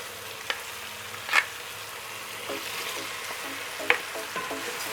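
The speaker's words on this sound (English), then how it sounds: "So now I'm going to add in my chips." Potato chips going into a masala sauce in a pan, frying with a steady low sizzle, a couple of sharp clinks and soft stirring scrapes near the middle, no talking.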